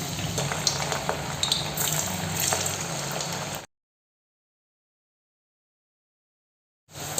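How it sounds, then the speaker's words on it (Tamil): Carrot 65 pieces deep frying in hot oil, a steady crackling sizzle that runs for a few seconds, then cuts to silence before returning briefly at the end. "இது ஒரு 5 நிமிஷம் வச்சுட்டு நம்ம வந்து எண்ணெயில் பொரித்து எடுத்துக்கலாம்"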